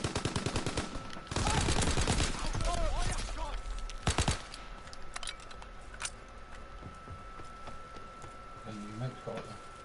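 Automatic gunfire from a weapon in Call of Duty WW2, rapid bursts that dominate the first half and then give way to quieter game sounds, with a player talking over much of it.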